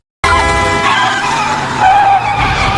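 A car skids hard and nearly crashes, its tires screeching loudly and close for over two seconds after an abrupt start.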